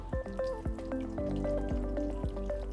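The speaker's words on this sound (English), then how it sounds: "and just pour it over it." Hot water poured from a bottle over a corroded car battery gives a steady, close fizzing and dripping hiss, with sharp spatter ticks and light splashes running throughout.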